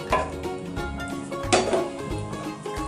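A lid clanks down onto a metal pot of pepper chicken in a home kitchen: a few close, bright metallic knocks and rattles, the loudest around the middle, over a steady background hum.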